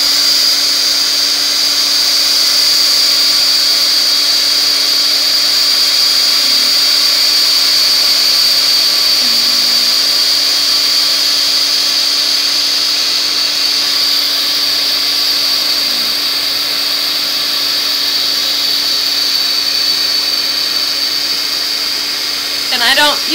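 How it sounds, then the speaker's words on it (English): A heat gun blows over embossing powder on a stamped holiday card to melt it. The loud, close blower whir carries a steady high whine and runs unbroken throughout. "So, we're going to take our heat gun and set our embossing powder."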